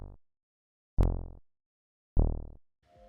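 A bassy square-saw wave sample loops in Ableton Simpler, sounding three short, loud, decaying notes separated by silence, with a brief rough tail at the end.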